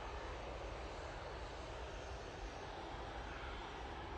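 A Virgin Atlantic airliner on approach to the runway at Manchester Airport gives off a steady, broad engine roar that holds constant and fairly distant, with no voices over it.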